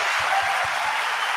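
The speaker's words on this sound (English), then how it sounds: "let me get the round of applause back to you after that" An audience claps steadily in a hall, a dense even wash of applause with a few soft low thumps underneath at the start.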